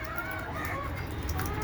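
Desi chickens cluck softly in a brief, faint burst of fowl calls over low background noise, with no speech.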